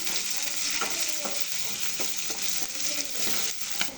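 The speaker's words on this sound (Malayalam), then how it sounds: "നന്നായി മിക്സ് ചെയ്യാം." Garlic, chili flakes and curry leaves sizzling loudly in a hot pan while being stirred, a continuous close frying hiss broken by regular scraping strokes of a spoon against the pan.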